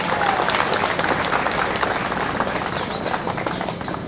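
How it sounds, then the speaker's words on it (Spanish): A crowd claps continuously at an outdoor handover ceremony for a solid-waste collection truck in San Carlos, with some bird chirps audible over the sustained applause and no clear talk. "Un aplauso para todos ustedes."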